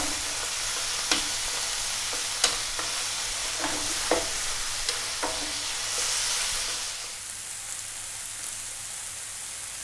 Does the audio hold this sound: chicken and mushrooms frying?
yes